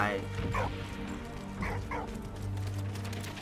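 Dog barking in the World War I game Valiant Hearts, a few sharp yips and barks spaced out over steady game music and ambience.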